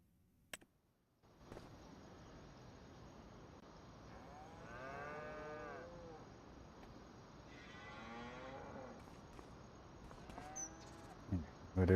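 Cattle on a farm moo several times, long drawn-out calls at moderate distance over steady low outdoor background noise, with no talking.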